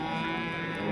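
A cow at a cattle market gives a short, steady low moo, heard close and alone.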